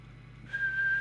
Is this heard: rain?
no